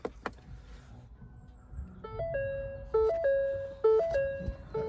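Welcome chime of a Ford Focus RS Mountune at start-up: a clear sequence of bright electronic tones, a short rising-and-falling melody repeated a few times, heard close inside the cabin against a quiet background.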